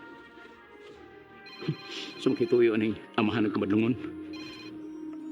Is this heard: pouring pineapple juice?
no